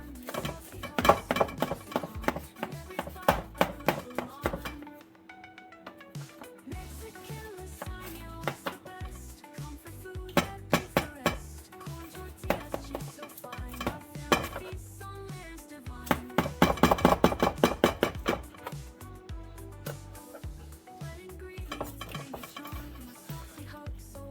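A server cuts into a hot Mexican chicken lasagne and lifts out a slice, making close scraping, clinking and knocking sounds in uneven bursts, with short quiet gaps between them.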